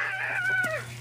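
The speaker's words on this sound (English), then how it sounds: "Get that chicken." A chicken on a farm gives a loud, strained, drawn-out call lasting about a second, close by, with no talking.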